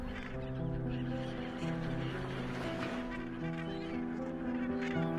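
Dense Cape Gannet breeding colony on flat rocky island ground, thousands of seabirds calling at once in a steady, overlapping mass of harsh honking cries, continuous and fairly loud with no voices.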